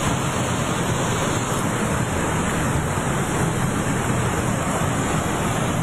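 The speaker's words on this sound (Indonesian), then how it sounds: "Sungai Ciliwung pun ini mengalir deras." The Ciliwung river, flooded and rushing in heavy rain, roars as a dense, unbroken wash of water noise that stays steady and loud throughout.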